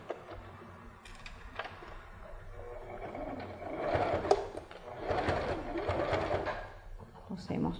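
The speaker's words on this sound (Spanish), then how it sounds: "Cosemos todo alrededor." Sewing machine stitching around the inside of a fabric handbag, a steady mechanical whir with bursts of faster running, heard close up alongside someone talking.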